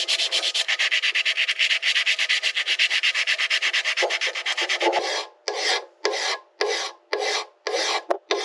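Abrasive scrubbing of a bolting surface to clean it for an alternator ground on a boat engine: fast, rhythmic rasping strokes, close and loud, then slower separate strokes with short pauses between them.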